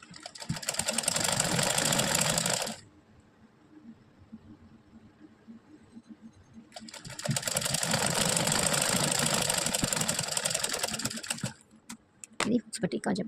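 Sewing machine stitching a folded hooks patti joint on a garment, two long continuous runs of steady whirring separated by a quiet pause, then a few short bursts; speech is faint in between.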